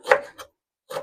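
A knife chopping through wild garlic, two close, crisp cutting strokes with a short pause between, no talking.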